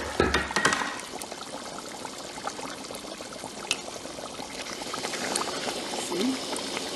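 Thickened egusi melon soup with spinach simmering in a pot, oil rising to the surface: a soft continuous bubbling with small pops and a brief clatter at the start, quiet and close.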